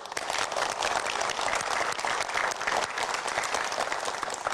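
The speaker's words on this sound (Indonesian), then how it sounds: "Boleh berikan tepuk tangan dong." A studio audience of community groups claps steadily, a dense, even patter of many hands at moderate loudness lasting the whole stretch, with no talk over it.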